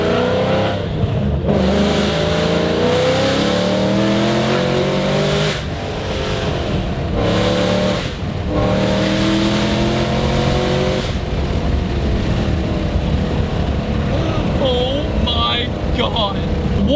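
A 750HP Shelby GT500 Super Snake engine revs hard and accelerates, the loud roar climbing in pitch through repeated gear shifts, with a voice speaking over it.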